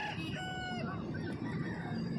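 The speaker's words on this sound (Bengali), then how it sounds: "এটা একটু বড় জাতের মোরগ" A large-breed Aseel rooster crows in one long, drawn-out call at an open-air livestock market in Jhargram, West Bengal, with steady crowd and market noise underneath.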